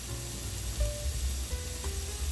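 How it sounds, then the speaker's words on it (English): Steady frying sizzle of chicken tsukune meatballs in a little oil in a frying pan, with a broad hiss and low crackling pops, fairly quiet and continuous with no talking. "into the frying pan they go with a little oil. Listen to that sizzle."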